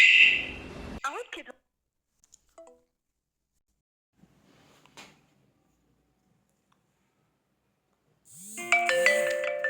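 A phone call rings through to activate a PIR multi-sensor home and shop security system: a loud, repeating electronic ringtone with bright tones near the end, after brief talk at the start and a quiet gap.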